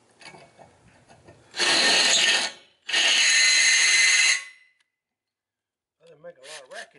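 Two loud bursts of a power drill with a Ryobi copper oxide bit grinding through metal, each about a second or more, separated by a short pause, followed by brief speech.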